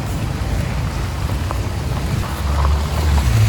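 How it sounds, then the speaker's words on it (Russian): Rain and rushing wind noise while riding a scooter on a road trip in southern Vietnam, a steady broadband wash with low rumble that swells toward the end, no talking. "Блин, дождь начался."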